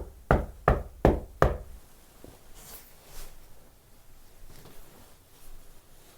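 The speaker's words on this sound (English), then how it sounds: "Who's knocking?" Four loud, sharp knocks land in quick, even succession on a door or wall in a quiet room during a paranormal investigation. A few faint, distant taps and creaks follow, with no speech.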